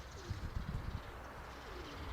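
Soft pigeon cooing, a cream-coloured dove among others, a few low murmuring coos in the first second, fairly close, over steady outdoor background hiss.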